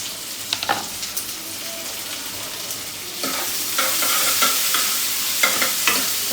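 Onion frying in a pan for a dhaba-style chicken curry gravy. It starts as a soft hiss with a few stirring clacks, then grows to a louder, steady sizzle as the onions are stirred repeatedly.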